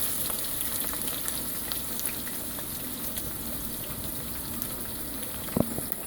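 Green onion, chopped onion and cilantro fry in a pan for Liberian plantain gravy, giving a steady, even sizzle that carries on without a break and with no voices.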